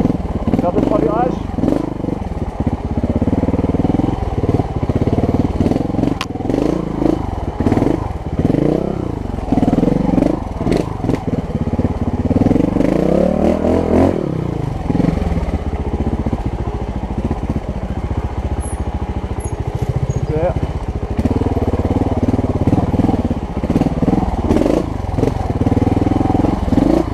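A Montesa 300RR trial motorcycle is ridden off-road, its engine revving and chugging unevenly as the throttle is worked over terrain, close up, with someone talking over it throughout.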